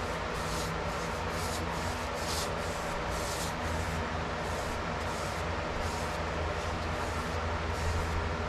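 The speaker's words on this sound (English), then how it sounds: "I'm wiping it down with a piece of tack cloth just to get all the dust and stuff off." A tack cloth rubbed back and forth across a DIY countertop gives a rhythmic swishing, about two strokes a second, steady and fairly close over a constant low background hum.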